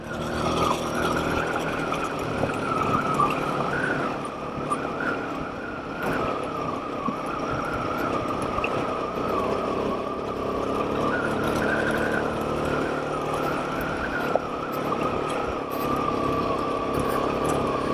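A Royal Enfield Himalayan 452 motorcycle climbs a Colorado mountain pass between Tin Cup and Cumberland Pass. It gives a steady, close engine drone at constant loudness throughout, with no speech.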